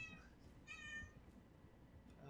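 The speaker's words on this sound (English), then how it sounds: "Oh, cat." A cat in the XCOM 2 game meows twice in fairly quiet, high-pitched cries over a low background hum.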